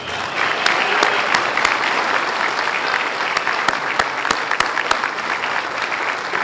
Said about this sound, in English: please join me in a round of applause for our newest inductee, Ms. Tricia Zale.